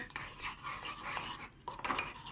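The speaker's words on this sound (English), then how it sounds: "So yeah, give that a good stir." Spoon scraping and clinking around a pot while a thick paste is stirred for a chicken dish, a steady run of close, busy scrapes with a brief pause before louder knocks near the end.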